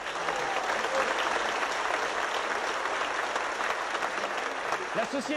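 Theatre audience applauding steadily after a stage play, a dense, sustained wash of clapping with a voice beginning to speak near the end.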